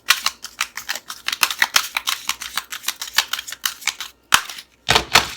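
Playing cards riffled and shuffled by hand in a quiet room, a run of crisp rapid flutters in short bursts with small pauses, ending in a couple of separate riffles; no voices.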